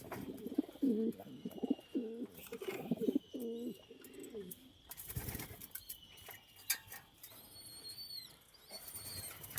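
Racing pigeons coo in a loft during breeding season, several rhythmic throaty coos close by, followed by wing flaps, scuffling and faint chirps from chicks.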